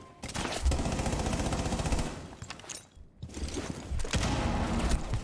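Gunshots in the video game Rainbow Six Siege come as dense, rapid automatic fire that runs almost continuously and is briefly cut off before more shots follow.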